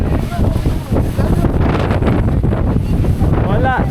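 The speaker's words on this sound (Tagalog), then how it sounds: "Ang hangin." Loud wind off the Pacific at Dingalan, Aurora buffets the microphone in a continuous gusty roar, with voices briefly audible beneath it.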